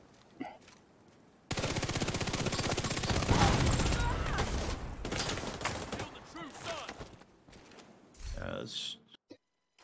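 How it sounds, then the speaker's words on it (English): Rapid, loud gunfire from a double-barrel shotgun in a video game, a dense burst of blasts lasting several seconds, then trailing shots with a voice talking briefly near the end. "Double barrel shotgun."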